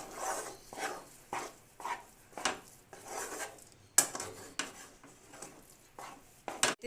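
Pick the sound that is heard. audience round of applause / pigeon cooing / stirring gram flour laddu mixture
stirring gram flour laddu mixture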